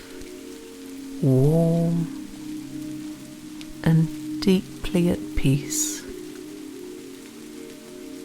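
Steady rain falls softly in an olive grove, a gentle continuous hiss running beneath a calm voice that speaks in short phrases.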